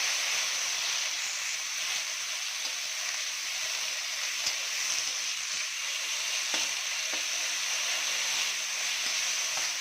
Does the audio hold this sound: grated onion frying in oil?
yes